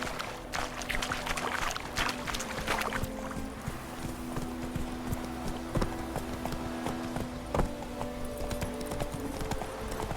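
Roach the horse trotting in The Witcher 3, a steady clip-clop of hooves carrying close and clear over faint ambient game sound and a soft background drone.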